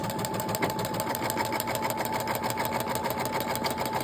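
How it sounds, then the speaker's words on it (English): An embroidery machine stitches a placement outline on fabric scraps, giving a steady, close mechanical whir with a fast, even needle rhythm that runs without pause the whole time. "So I'm just going to turn that on, and it's going to do the placement stitch."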